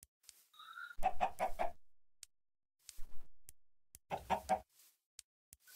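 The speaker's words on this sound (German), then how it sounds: "Solange dieses Knacken hinter mir ist, sind die Hühner da." Several quick clucks from Minecraft chickens come close and fairly loud in two clusters, separated by a short pause, alongside a few brief game clicks and a higher chirp near the start.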